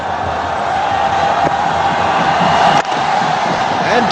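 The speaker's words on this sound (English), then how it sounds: "Listen to the crowd, they're excited." A large crowd at an India versus Pakistan one-day cricket match roars continuously, loud and dense with whistles and shouts, after the last ball of the 50 overs.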